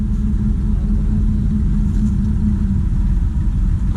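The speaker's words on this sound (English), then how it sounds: "the tractors are pulling out" Steady low engine rumble of tractors pulling out, a continuous droning hum with no clear changes, fairly close and constant throughout.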